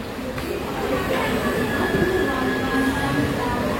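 Inside a moving passenger train, a steady loud rumble of wheels and carriage noise fills the space, with faint squeals and murmuring voices in the background.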